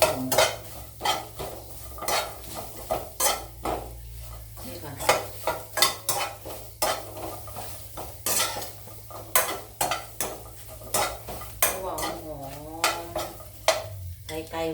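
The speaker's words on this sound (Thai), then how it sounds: "ข่าแล้วก็ใบมะกรูด คั่ว" Galangal and kaffir lime leaves stir-fried with pounded chilies in a pan, rhythmic spatula scrapes and clanks over a soft continuous sizzle, close and fairly loud.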